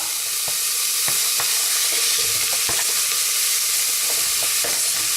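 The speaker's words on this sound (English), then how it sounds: "And the yellow pepper goes, and then I'm going to fry this until it becomes soft" Yellow pepper pieces sizzling with softened onions in a hot pan, a loud steady frying hiss throughout with scattered crackles and light stirring taps, close and continuous with no voices.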